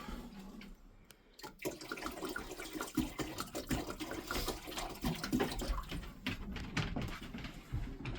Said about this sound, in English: So in order to get hot water to do dishes, we'll fill this pot up.